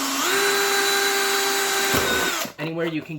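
A cordless drill runs at a high steady whine as it drives a screw into a wall stud during bathtub removal, then stops abruptly, followed by someone talking nearby.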